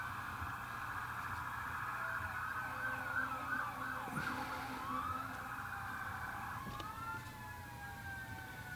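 Sirens from emergency vehicles in a town parade wail steadily at a distance, several overlapping rising and falling tones over constant background rumble.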